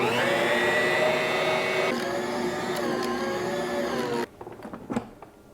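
A Bosch stand mixer kneads bread dough for pull-apart white rolls on speed 2. Its motor hums steadily and loudly at close range, shifts slightly in pitch midway, then cuts off, leaving a few faint clunks.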